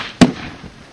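A thrown grenade detonating at an army training college: one sharp, loud blast with a fast-decaying tail that fades into low rumble and quiet background.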